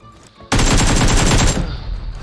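Rapid automatic gunfire from the PUBG Mobile video game, a loud sustained burst of shots lasting about a second and then cutting off into a softer ringing tail.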